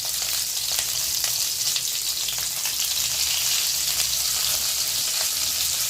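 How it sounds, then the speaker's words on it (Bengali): Cauliflower florets seasoned with salt and a little turmeric fry in a pan, giving a steady, bright, close sizzle that continues evenly with no talking. "ফুলকপিটা খুব ভালো করে ভেজে নিতে হবে।"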